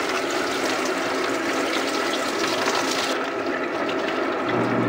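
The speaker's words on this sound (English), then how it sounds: "I'm gonna turn on the hot water here" Hot water runs steadily from a tap into a bucket setup with a screen tray, a continuous close splashing rush that changes tone near the end, no talking.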